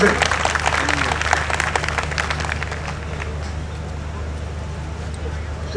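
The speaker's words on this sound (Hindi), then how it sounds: "जोरदार तालियों से" A large crowd gives loud, dense applause at a political speech event, strong at first and then tapering to a softer, steady patter with a low hum beneath it.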